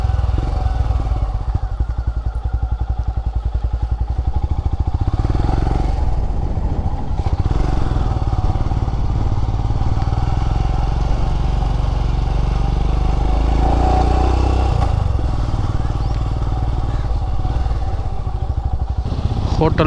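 A Royal Enfield Himalayan 411 motorcycle on a group ride to Kanniyakumari, its engine droning steadily and loudly from start to finish with wind rush and a few thumps.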